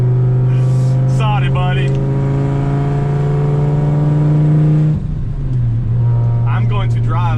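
A turbocharged car with a Borg Warner S257sxe turbo pulls hard in third gear, its loud engine drone rising steadily in pitch, then dipping at a shift. Someone speaks briefly over the close, continuous roar.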